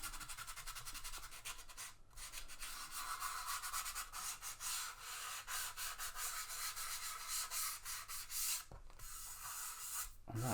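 Sanding off the rough top layer of a Monogram B-25 plastic model, a close, continuous scratchy rubbing in quick back-and-forth strokes with two brief pauses.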